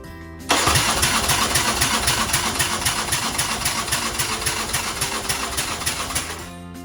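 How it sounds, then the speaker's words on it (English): A motorcycle engine, the 1250, is cranked over with the throttle held wide open during a compression test. The starter grinds loudly and steadily with a rapid chugging pulse for about six seconds, close and alone. "hold throttle wide open, turn the bike over, and see what it says"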